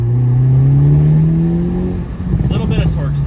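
A 2022 Hyundai Elantra N revs hard while driving, its engine note climbing steadily and loud from inside the car before a gear change breaks the tone and it pulls on again, with a person speaking over it.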